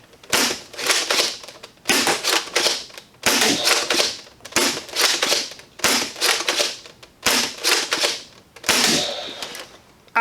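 An AF Conquest Pro SPAS-12 dart blaster fitted with an Hourglass Mods kit is fired repeatedly: about seven sharp mechanical shots with clacking action sounds, evenly spaced roughly every one and a half seconds, loud and close, with no talk.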